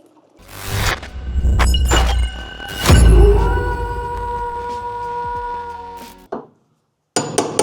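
Brittle sound deadening, frozen with dry ice, is broken off a Honda CRX in a burst of sharp crunches and thuds, followed by a lingering metallic ring, then a brief scrape after a pause.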